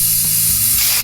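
A spray can lets out one loud, steady hiss lasting about a second and then cuts off sharply, alone, with no voices.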